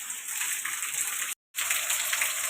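Heavy rain pours outside a home during a power cut, a steady dense wash of water that drops out for a moment and then resumes.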